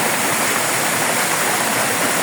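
Kabuayahan Falls, a waterfall, roars as a steady, close, loud rush of falling water, constant and unbroken, with no voices present.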